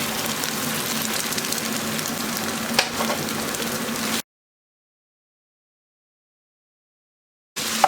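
Bulgur with tomato paste sautéing in a pan gives a steady, close sizzle and crackle for about four seconds, then cuts to silence before a brief return at the end.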